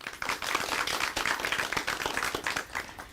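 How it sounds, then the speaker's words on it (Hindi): Dense clapping from an audience at an Indian farmers' question-forum event on women's contribution to agriculture, welcoming the invited experts; steady, continuous applause throughout with no talking. "मैं चाहूंगा एक बार जोरदार तालियां बजाकर आप स्वागत करें हमारे आज के विशेषज्ञों"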